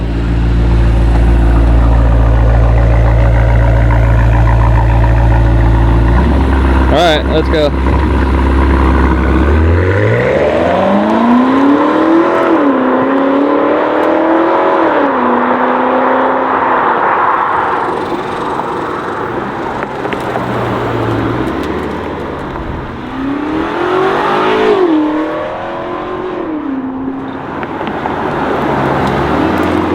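A BMW M5 G90 twin-turbo V8 with its Valvetronic exhaust valves open idles loudly, then revs in several rising and falling sweeps, with a second strong rev later on. Someone speaks briefly at the start.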